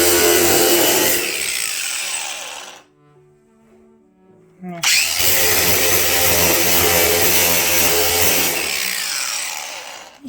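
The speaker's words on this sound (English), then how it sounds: "Just a angle grinder, sanding pad, 80 grit" An angle grinder with an 80-grit sanding pad roars against metal in two long bursts with a brief quiet gap between, harsh and loud, the motor spinning down and back up.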